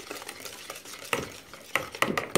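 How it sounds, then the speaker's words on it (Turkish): A spoon stirs cake batter in a bowl right after oil has been poured in. Soft scraping strokes come at an uneven rhythm, up close and fairly quiet, with a few sharper clinks against the bowl near the end. "Evet, onu da biraz böyle karıştıracağım."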